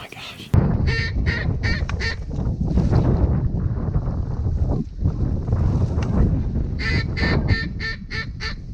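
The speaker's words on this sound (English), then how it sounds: "Ducks just everywhere, dude." Mallard ducks calling in a barnyard grass marsh during a duck hunt, a steady wash of quacks and honking calls nearby, with bursts of rapid repeated calls at the start and end over wind noise.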